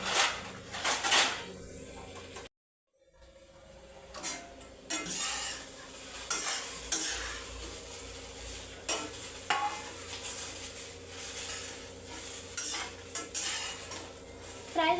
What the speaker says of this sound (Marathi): आता ही झालेच आपली भेंडी फ्राय आहे बघा, सुकी झाली एकदम